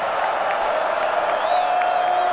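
A college football stadium crowd at a Marshall Thundering Herd versus NC State Wolfpack game rises and cheers, a steady dense roar with scattered whoops and clapping, loud and continuous.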